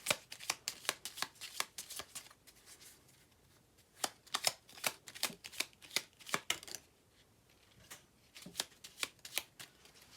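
Oracle cards being shuffled by hand, close and crisp, in quick bursts of riffling flutters separated by short pauses, with no talking.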